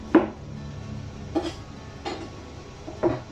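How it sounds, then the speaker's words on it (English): A knife slicing a courgette on a cutting board, four crisp, evenly spaced chops knocking against the board, close and fairly quiet over a low kitchen hum. "Try to cut evenly because you want to cook them evenly."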